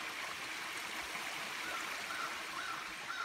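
Water from a waterfall and stream runs in a steady, close rush through a forest glen, with a continuous broadband wash and no voices.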